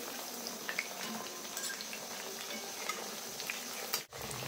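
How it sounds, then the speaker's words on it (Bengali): Chicken pakoras fry in hot oil with a soft, steady bubbling sizzle and occasional faint stirring clinks, ending in a brief sharp knock. "তো এগুলো ভাজা হলে কিন্তু হয়ে যায় সব চিকেন পকোড়া ভাজা"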